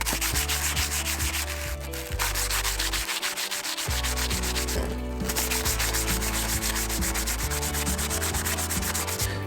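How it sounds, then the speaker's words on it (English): Sandpaper on a block, with a piece of wood to reach small spaces, rubs rust off a MOD survival knife blade in steady back-and-forth strokes, loud and close, pausing briefly twice. "sanding with the block and a piece of wood there to get into the small spaces"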